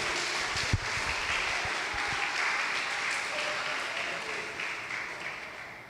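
A church congregation applauds loudly and continuously during a sermon, the dense clapping filling the room at an even level throughout with faint voices underneath.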